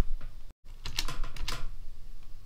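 Close keystrokes on a computer keyboard as a command is typed into a terminal to launch a Python Flask app, a quick cluster of clicks after a brief silent gap, ending with a firmer key press, no talking.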